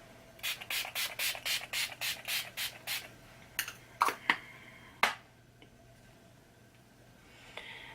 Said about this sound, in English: I'm gonna go back with the cucumber spray.